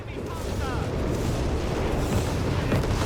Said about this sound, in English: Heavy artillery fire from a whiz-bang out of DonQuijote